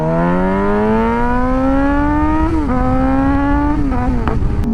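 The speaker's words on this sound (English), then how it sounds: "I'm gonna wait for these cars to go in front of me" Cars on a road heard from a waiting motorcycle, a loud, steady engine drone whose pitch slowly rises, dips briefly, then settles over several seconds.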